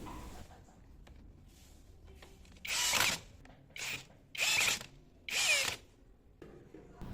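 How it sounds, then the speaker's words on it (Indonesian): A 13mm brushless cordless drill whirs at maximum speed in drilling mode in four bursts of a second or so each, separated by short pauses, loud and close amid quiet surroundings. "kita mode drilling saja ke maksimal."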